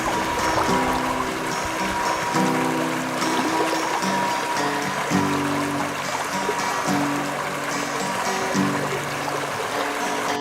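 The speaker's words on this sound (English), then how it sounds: "I listen to the water as it flows." Steady flowing water runs throughout, a continuous broadband wash with faint tonal sounds drifting in and out above it.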